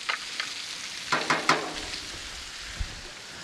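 Garlic plopped into a pan over medium heat, a soft continuous sizzle close by with a few sharper spits and crackles and light stirring clinks, no voice over it.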